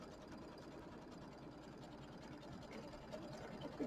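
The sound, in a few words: sewing machine stitching out a quilt block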